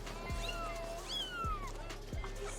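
Kittens meow in a scene where a street vendor sells them, several thin rising-and-falling mews spread across the moment, with soft thuds like hooves or footsteps underneath.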